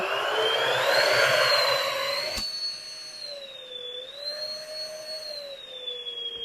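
A vacuum cleaner runs loudly with a steady high-pitched whine, its roar easing slightly partway through while the motor tone wavers.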